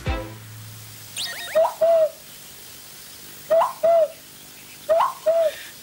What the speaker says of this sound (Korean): 뻐꾸기 소리 내지 말아요